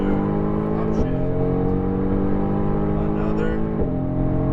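A Mercedes AMG GTR's engine pulls hard on a racetrack after an upshift, a steady loud roar with dense harmonics and brief dips at each gear change, running continuously throughout.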